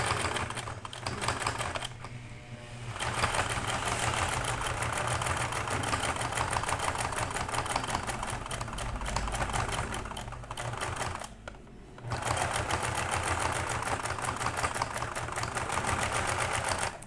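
A sewing machine runs two seams, one over the other, on fabric for a baby teether, a fast steady mechanical chatter stitching continuously with two short pauses between runs and no speech.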